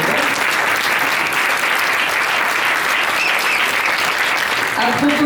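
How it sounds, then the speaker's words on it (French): An audience at a book-signing speech in a Paris town hall applauds steadily, a loud, even wash of clapping with no talk over it. "que vous pouvez applaudir"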